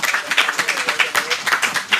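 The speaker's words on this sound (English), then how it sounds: "that's something we should probably applaud the division for" An audience claps at a handover ceremony for an agri-technology training centre, a close, dense run of hand claps with a steady uneven rhythm throughout.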